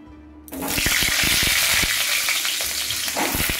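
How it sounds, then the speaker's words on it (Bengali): Potatoes are dropped into hot oil in a kadai with a sudden loud sizzle that then holds as a steady close frying hiss, with a few clinks from stirring. "এবার আলুগুলো আমি দিয়ে দিচ্ছি কড়াইয়ের মধ্যে।"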